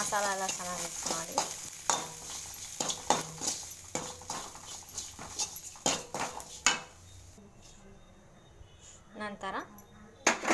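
Masala mixture is stirred and mixed in a frying pan, with repeated spoon scrapes and knocks against the metal over a light sizzle, and a voice talks through much of it.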